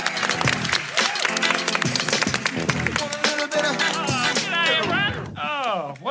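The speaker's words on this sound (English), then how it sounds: "big round of applause for Bridie and Wyatt." An audience applauds and cheers loudly and continuously, mixed with voices and some music.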